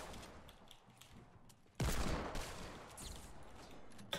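Gunfire in the Fortnite video game, a quiet stretch broken by a sudden loud burst of rapid shots that rolls on as a dense rattle before easing off.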